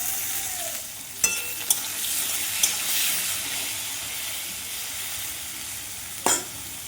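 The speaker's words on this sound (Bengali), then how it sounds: "এবার পটলটা ভেজে নেব।" Pointed gourd, salted and dusted with turmeric, frying in hot oil in a pan, giving a steady soft sizzle with a few sharp clicks of a utensil stirring, close and alone.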